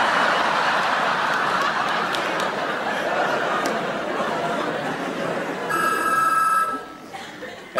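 A telephone rings on stage during a Dutch comedy show, a bright bell ring that arrives near the end over a constant wash of audience chatter and laughter.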